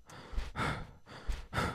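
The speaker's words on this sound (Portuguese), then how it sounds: "tô mal ofegante" Heavy, breathless panting close to the microphone, with four long, ragged breaths in a steady in-and-out rhythm and no talking.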